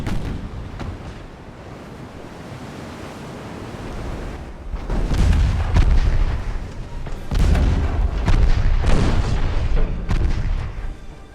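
Naval guns fire a volley in Ultimate Admiral Dreadnoughts. Two heavy booming blasts roll out several seconds apart over a constant rumbling wash of sea and battle noise, loud and full.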